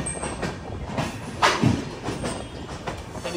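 The Island Express rolls into Thiruvananthapuram Central station with a continuous rumbling rush and a brief rising screech of wheels midway, heard from close by.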